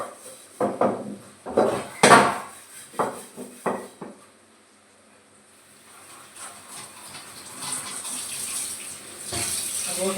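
Metal dishes clatter and clank in a series of sharp knocks while being washed in a home kitchen, then a tap runs in a steady hiss of water for the rest of the clip.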